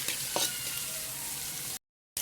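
Food frying in a pan gives a steady, dense, close sizzle with a few small pops, cutting out briefly near the end before resuming.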